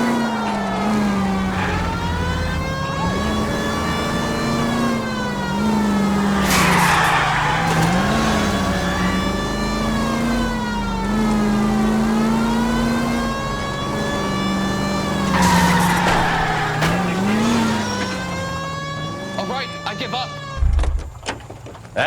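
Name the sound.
car chase with skidding tires, from video game L.A. Noire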